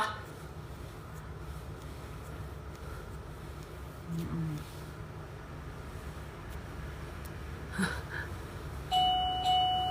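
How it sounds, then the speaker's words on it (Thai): A doorbell chimes near the end of a low, murmuring indoor scene, a single clear electronic tone that rings out after faint background voices. "ใครกดออด"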